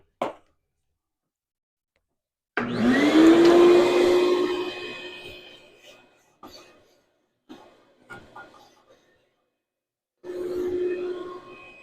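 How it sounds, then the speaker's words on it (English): A vacuum cleaner motor roars up loudly for about three seconds while cleaning out a dirty outdoor firepit bench, then cuts off, followed by a few brief bumps and handling noises and another short vacuum burst near the end. "I'm gonna vacuum that out a little because it's"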